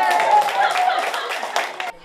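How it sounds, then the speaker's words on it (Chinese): Brief burst of hand clapping from a small group of elders after finishing a game challenge at a community activity, steady close applause with some voices mixed in, cutting off abruptly near the end. "完成挑战，掌声响起"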